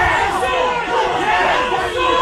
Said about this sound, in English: Crowd getting vocal.